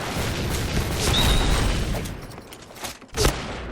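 A grenade blast in the first-person shooter Point Blank, a loud dense burst of booming game noise with a sharp secondary pop near the end, heard without speech.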